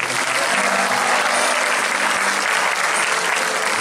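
A concert crowd at a memorial tribute applauds the lead guitarist with steady, dense clapping that stays loud and even from start to finish, close by, with only a soft hum of crowd noise beneath.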